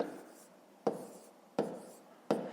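Marker or pen strokes writing numbers for long division, with three crisp taps about evenly spaced over quiet room tone, close and soft.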